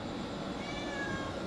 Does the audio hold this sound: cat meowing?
yes